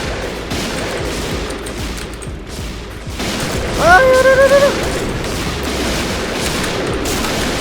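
M200 sniper rifle fire in the Point Blank online shooter game, with heavy booming shots and a crackling fusillade over constant loud battle noise, plus a brief rising electronic tone in the middle.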